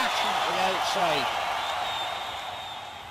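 Wrestling crowd cheering and applauding in an arena after a wrestler is sent crashing outside the ring, a broad roar fading slightly over a few seconds, with a commentator's voice talking over it.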